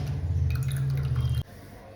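Overly hot water is cooled by mixing and pouring, a close liquid splashing and trickling that cuts off abruptly after about a second and a half, leaving quiet.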